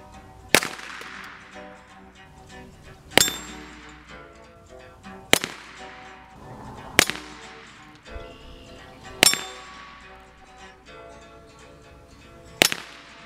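Six sharp, loud gunshots from a Heritage Rough Rider Buntline revolver with a very long barrel, fired unsupported at steel targets outdoors. The shots come at uneven intervals of roughly two seconds, each with a brief metallic ring and decay.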